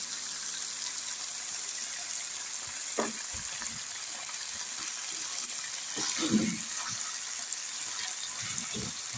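Water added to a cauliflower curry in the pan, a soft steady hiss of liquid with faint scattered knocks and a short burst of splashing near the middle, fairly quiet throughout.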